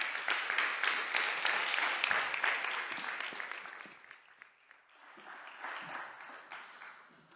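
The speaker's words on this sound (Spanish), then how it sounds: "Un fuerte aplauso para Yayo Herrero." Audience applause for Yayo Herrero at a talk on ecofeminism, a dense, steady clapping from a large crowd that thins out midway, then swells again briefly before fading.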